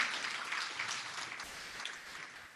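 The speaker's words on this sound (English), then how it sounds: "Let's give them a round of applause." An audience at a Rotary Club meetup claps to welcome visiting members from another Rotary Club: steady, dense applause from a room of people, moderately loud and fading slightly toward the end.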